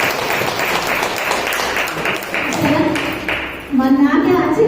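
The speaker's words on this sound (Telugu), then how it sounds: "ఒకటి క్లాప్స్ కొడతాం సార్," A small audience at a pyramid meditation centre breaks into applause, a dense patter of clapping under and alongside talking voices, with a tonal hum or voice rising toward the end.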